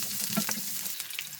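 Garlic, ginger, green chilies and chopped onion sizzle steadily in hot oil in a pan, a continuous close frying crackle with a few brief stirring scrapes and no talking.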